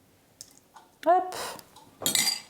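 Seitan ingredients are stirred together in a bowl, giving a few brief clinks and scrapes of utensil against the dish, and a voice speaks between the knocks.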